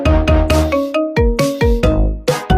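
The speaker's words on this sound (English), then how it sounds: "And have you seen Toothless ringtone prank in library?" The Toothless dancing ringtone plays loud and close as a prank in a library, a bouncy electronic melody of short plucked notes in a steady rhythm with no talking.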